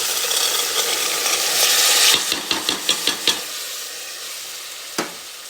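Mixed vegetables for veg pulao, including peas, beans and carrot, sizzle steadily in a hot pan, followed by several sharp spoon scrapes and taps as they are stirred, ending in a quieter sizzle with one last clink.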